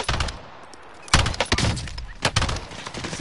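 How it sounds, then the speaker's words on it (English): Hostile gunfire in a video game firefight: sharp, loud shots crack in irregular bursts, some close together and some spaced apart, over a steady background din, with no talk. "Receiving hostile fire."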